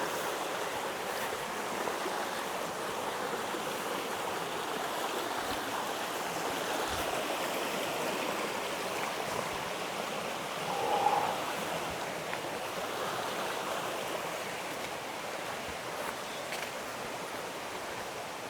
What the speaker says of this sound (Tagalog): So ito yung ilog.